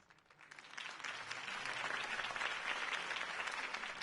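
A crowd in the video game Batman: The Telltale Series applauds steadily, a dense wash of many hands clapping that swells in the first second and holds loud to the end.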